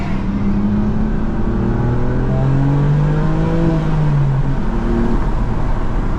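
A BMW M4 Competition fitted with an AWE SwitchPath exhaust drones steadily and loudly, its engine note sliding down and back up as it downshifts with a low burble, heard from inside the car.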